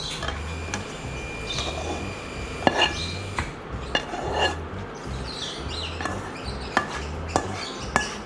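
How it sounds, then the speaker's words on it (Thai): Utensils scrape and clink against a pan as stir-fried mushrooms with egg are tipped out onto a plate, with scattered metallic taps over a low background hum. "ผมก็จะเทใส่จานแล้วนะครับ"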